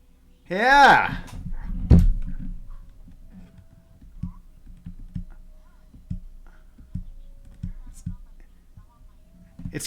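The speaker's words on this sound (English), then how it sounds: "I heard a dog in the background that was barking" A dog gives one drawn-out, whining bark near the start, then scattered soft clicks and taps follow over a quiet room. Faint voices talk underneath.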